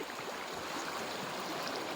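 Water seeping and trickling through a hole in the bank of an irrigation canal, a steady close wash of flowing water running alone throughout without pause.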